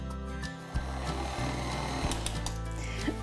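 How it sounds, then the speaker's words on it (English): A meat grinder pushing meat through a fine grinding die, a steady mechanical hum and whir with a few soft knocks and clunks, moderately close. "you'll wanna run it again through the fine grinding die"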